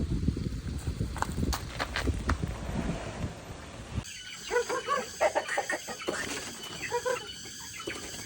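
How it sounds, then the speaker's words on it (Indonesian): Chicken clucking in a rural setting, short scattered clucks coming from a moderate distance, mixed with rustling, footsteps and background noise that shifts partway through. "kemana ayam tadi?"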